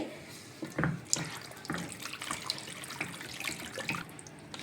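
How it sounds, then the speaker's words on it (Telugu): Water poured into a pot of rice for soaking mutton pulao, a soft splashing trickle with a few louder gushes, close and quiet with no talk. "కొన్ని వాటర్ వేసానండి"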